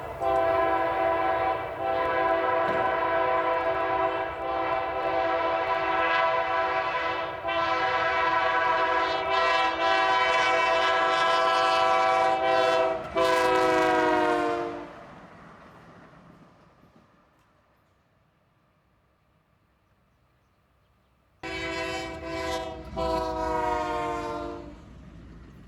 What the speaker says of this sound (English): The MTA locomotives are chargers, made by Siemens